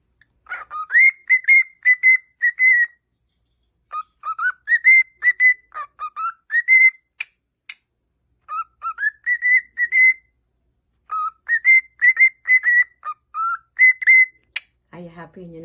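A pet cockatiel gives bursts of clear, close whistles and chirping calls in short repeated phrases separated by pauses, loud against a quiet room, with a brief low sound at the very end.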